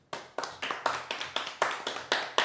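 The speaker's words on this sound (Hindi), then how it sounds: "ओके, जोर से ताली बजा दो।" Students clap loudly in a steady rhythm, about nine sharp, evenly spaced claps that ring out close and clear with no talking.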